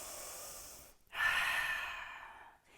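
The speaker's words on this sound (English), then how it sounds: "2 more breaths here." Slow, audible breathing during a yoga pose: a long soft exhale, a short pause, then a deeper airy breath close to the mic, with no talking.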